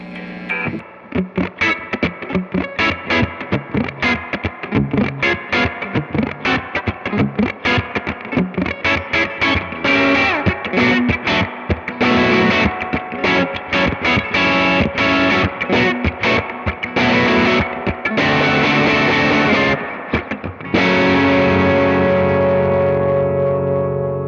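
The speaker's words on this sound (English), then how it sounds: "up the verb a little bit, make it a little washy with some boost on" Distorted electric guitar plays a busy riff through a miked Supro Airwave 1x12 amp with boost and a washy reverb tail, ending on a sustained ringing chord.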